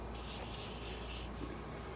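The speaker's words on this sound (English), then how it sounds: "If you hear the humming in the background, it's my air conditioner." A window air conditioner unit hums steadily in a craft room, a constant low droning background noise with faint broadband hiss and no other distinct sounds.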